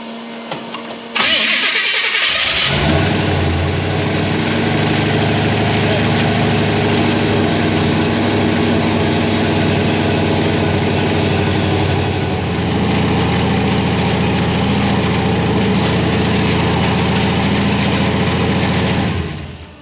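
A supercharged Chevrolet C10 truck engine cranks briefly and fires up loudly, then settles into a rough, throbbing idle that carries on close and steady until it cuts off at the end.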